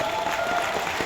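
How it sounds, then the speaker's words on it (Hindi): A brief burst of steady audience clapping fills the hall at a network marketing seminar, even and moderately loud throughout. "एक जोरदार तालियां होनी चाहिए सबके लिए।"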